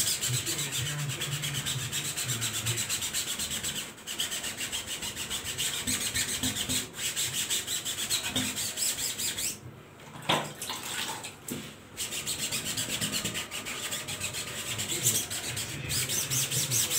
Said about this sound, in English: You don't have to scrub it too much, and you don't need to be extra careful.